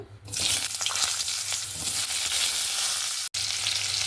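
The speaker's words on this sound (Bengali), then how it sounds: "এবার মাংসের আলুগুলো আমি এখানে ভেজে নেব।" Potatoes for a chicken curry fry in a little hot oil in a wok, giving a steady, close, dense sizzle. There are faint stirring scrapes, and the sizzle drops out for a brief moment near the end.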